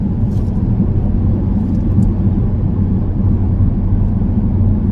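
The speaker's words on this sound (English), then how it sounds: "You can definitely still hear the engine." A 2013 Dodge Challenger SRT8 392 cruises at just under 60 mph with a Solo Performance Mach X3 cat-back exhaust. Inside the cabin, a steady low engine rumble drones without letup, with no voices.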